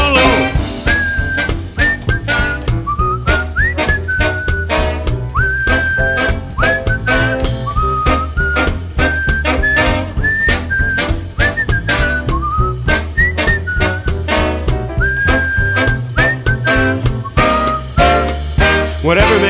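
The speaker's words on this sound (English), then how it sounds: "Whistle solo." Someone whistles a solo melody over a full band backing, the sustained whistled line weaving through the loud music for about twenty seconds.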